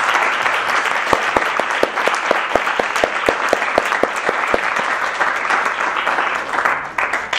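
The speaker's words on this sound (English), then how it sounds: "Please give them a round of applause." Sustained applause from an audience for panelists after a university discussion on abortion, a dense steady wash of clapping with a few sharper nearby claps standing out, continuing loudly throughout.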